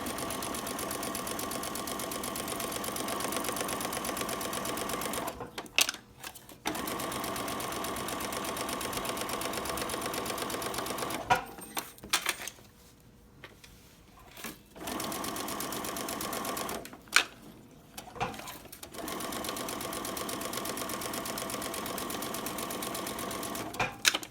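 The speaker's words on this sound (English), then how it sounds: "continue to sew" A sewing machine stitches around a Christmas appliqué pillow cover in long steady runs, close and loud, stopping briefly several times with small clicks and handling noises in the pauses.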